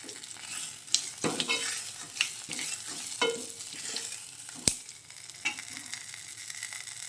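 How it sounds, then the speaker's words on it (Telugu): Mustard seeds and other tempering spices crackle and sizzle in hot oil over low heat, with scattered sharp pops and stirring clicks throughout, no voices. "చూసారా తాలింపు ఫ్రై అయిపోయింది"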